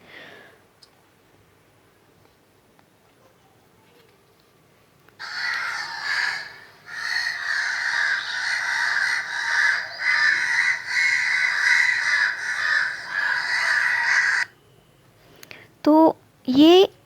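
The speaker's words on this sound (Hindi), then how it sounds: "उसके ऊपर बहुत सारे कौवे बैठे हुए थे, कुछ तारों पे भी बैठे हुए थे और वो आपस में बहुत चिल्ला रहे थे" A flock of crows perched in a tree and on overhead wires caws loudly and continuously for several seconds in the morning, dense overlapping calls that stop abruptly, followed by a few brief sharper calls close by.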